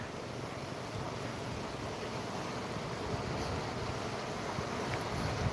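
Fast-flowing water of the Sutlej river makes a steady, broadband rushing roar throughout, with wind buffeting the microphone and no speech.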